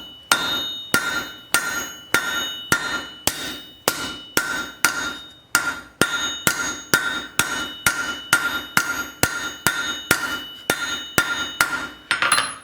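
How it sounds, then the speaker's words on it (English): A blacksmith's hammer strikes a rivet on the bolt jaw of forge tongs, flattening it with a long series of sharp metallic blows at a steady, slightly uneven rhythm, close and loud with ringing overtones and no talk. "So I'm going to hammer the rivet flat."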